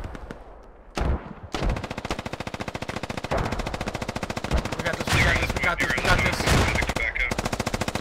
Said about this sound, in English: Oh, enemy shots in here.